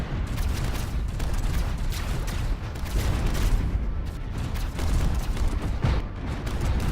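A space battle in the Stellaris strategy game as giga cannons fire and torpedoes launch: a dense, steady barrage of booming, rumbling weapon fire fills the whole stretch with no pauses and no talking.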